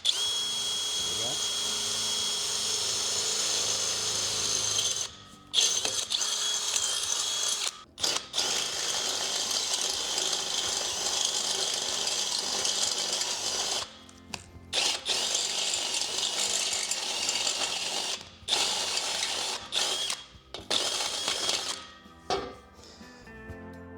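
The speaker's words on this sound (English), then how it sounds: "We're going to go ahead and drill that out and get the flange in." A power drill with a step bit whines steadily through a hole for a flange, pausing briefly several times before biting in again, with occasional voices in the background.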